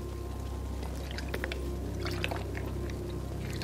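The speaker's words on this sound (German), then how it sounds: "Ich nehme währenddessen einen Schluck meines Wassers." Water poured into a glass for a drink, a steady liquid trickle with a few splashy bursts toward the middle, close by over a low hum.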